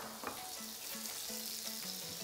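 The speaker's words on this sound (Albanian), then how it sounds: "Shtojmë gjalpën." Butter sizzles in a pan for a mushroom risotto, a steady close frying hiss that runs the whole stretch. Faint tonal clinks and scrapes sit on top of it, and no one talks.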